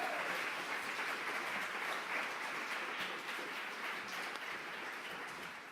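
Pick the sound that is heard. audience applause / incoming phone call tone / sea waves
audience applause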